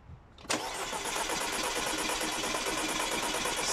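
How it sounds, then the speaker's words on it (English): A car engine cranks on the starter during a compression test, a sudden onset into a continuous rapid rhythmic churning that holds steady at close range. "You can crank her up."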